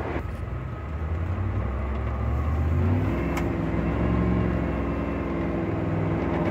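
A one-off Chevrolet 3100 pickup with a Z06 engine drives over a set of road bumps: a steady, close engine drone and road rumble, with a faint thump partway through.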